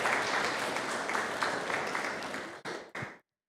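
A crowd claps and applauds loudly and steadily at a women's football club squad presentation, then it tapers into a few final bursts before stopping abruptly.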